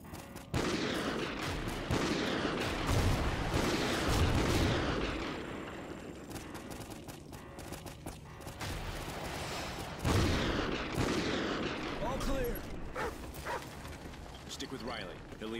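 Call of Duty: Ghosts battle with the remote sniper firing, a dense run of gunshots and explosive booms over loud battlefield noise, with voices shouting throughout.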